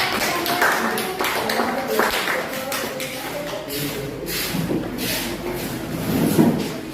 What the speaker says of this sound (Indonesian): Oke, kita beri aplaus untuk kelompok.